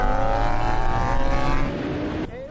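A 1100-horsepower Lamborghini Huracán and a Red Bull MotoGP bike launch side by side in a drag race, loud engines roaring and rising in pitch before the note abruptly drops away near the end.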